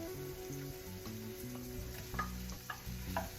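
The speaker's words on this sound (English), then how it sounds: "Just go ahead and add the onions, ginger, and garlic." Onions, ginger, garlic and pineapple fry in a pan for sweet and sour pork, giving a steady, moderate sizzle with light crackles under continuous background music.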